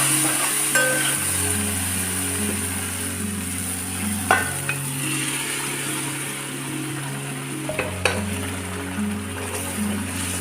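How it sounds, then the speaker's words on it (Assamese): Boiled dal is stirred into sambar in a pot, with a soft scraping and bubbling simmer under a steady low hum, no talking. "দালিখিনি দি খুব ভালদৰে লৰাই দিম"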